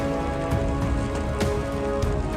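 Steady icy rain falls on a mountain trail, a dense continuous patter with scattered louder drop hits throughout, no voices.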